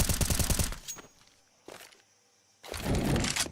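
Bursts of automatic gunfire from a Counter-Strike esports match play out in short rapid volleys separated by near-silence, the final burst loud and sustained.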